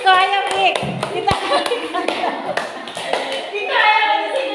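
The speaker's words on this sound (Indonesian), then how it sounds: "Tepuk tangan dulu untuk kelompoknya Agung." Classroom of children clapping together for a student group, a brisk burst of applause mixed with children's voices and an adult speaking over it.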